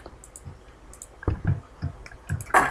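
Quick mouse clicks in a Minecraft looting session, arriving in short irregular bursts of a few taps at a time, fairly close and moderately loud, with no talking over them.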